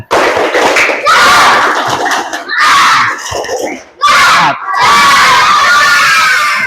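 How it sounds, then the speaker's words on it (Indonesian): A group of students in a classroom session claps and shouts together in a spirit cheer, loud rhythmic bursts of clapping mixed with energetic group yells, broken by short pauses between phrases. "Ya, tepuk semangat."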